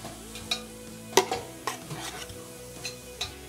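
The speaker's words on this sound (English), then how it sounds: "by sauteing some onions and garlic" Onions and garlic sautéing in butter on a restaurant range top, a soft sizzle under several sharp utensil clinks and scrapes as the pan is stirred, close and moderately quiet.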